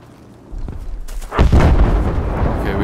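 A rocket explodes in the Battlefield 5 battle royale video game, a loud, close boom followed by a sustained, rolling rumble after a short lead-in of lower gunfire noise.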